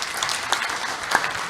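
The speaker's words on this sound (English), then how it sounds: "Let us give them a hand of applause." Audience at a national clergy convention keynote session applauding, a steady wash of clapping with a few sharper individual claps standing out near the listener.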